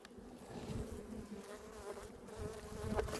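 A steady, faint hum of many honeybees buzzing together, continuous and close, with no voices.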